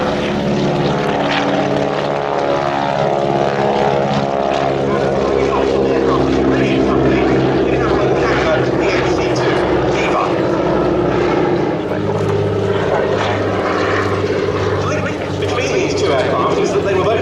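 A Noorduyn Norseman propeller aircraft flies at the Duxford air show, its loud, droning radial engine steady throughout, with a commentator talking over it.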